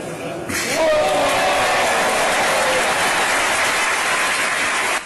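Wedding guests, relatives and friends applauding and cheering after the groom sinks a basketball shot, a sudden swell of clapping and crowd noise that stays loud and dense, with a voice audible over it.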